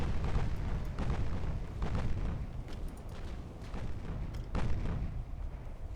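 Naval guns of 6-inch and 8-inch calibre firing from warships in the game Ultimate Admiral: Dreadnoughts, with heavy booming reports roughly every second over a continuous low battle rumble.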